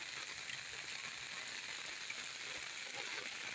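Heavy rain pours steadily over a farm field, a dense continuous hiss of drops on surfaces with no break, close and loud throughout.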